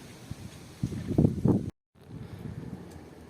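Gusty wind buffets the microphone in low, rumbling surges, cutting out abruptly for a moment before a steadier blustery rush returns.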